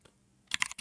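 Mechanical keyboard typing from the Mechvibes sound app: after a near-silent stretch, a quick cluster of sharp, close key clicks arrives, followed by one more distinct keystroke.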